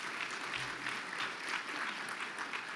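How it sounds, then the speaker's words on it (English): Steady applause from a luncheon audience at a business club event, a dense even patter of many hands clapping with no pauses, moderately loud throughout. "So give Judah Ministries and Alicia Johnson another round of applause."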